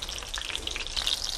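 Fish cakes frying in a pan over moderate heat, giving a steady dense sizzle and crackle with scattered pops, close and fairly loud with no talk.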